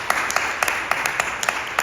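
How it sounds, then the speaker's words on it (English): A small audience claps briefly, with sparse, distinct handclaps spaced irregularly across under two seconds rather than a full ovation. "That's worth an applause."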